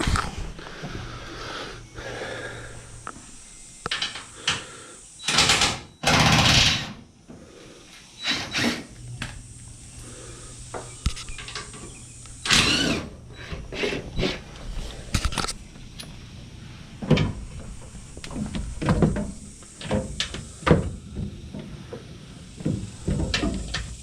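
Bolts on a Chevy Silverado 3500 fuel tank cover being removed by hand tools, with scattered metallic clanks, ratchet-like clicks and tool handling at close range, in bursts with pauses between them.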